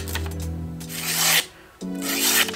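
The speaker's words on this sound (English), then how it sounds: "let me grab some paper to cut quick" CRKT Provoke karambit knife with a chisel-ground blade slicing through paper, two close, quick rasping cuts with a short pause between them.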